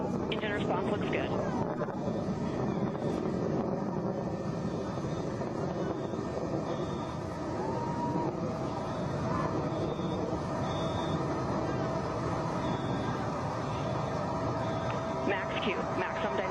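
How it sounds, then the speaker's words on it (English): A Blue Origin rocket engine roars continuously during a launch climb, a dense steady rumble that fills the whole stretch, with voices and radio-style callouts faintly under it. "Engine response looks good."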